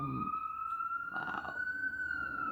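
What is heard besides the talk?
police car or ambulance siren passing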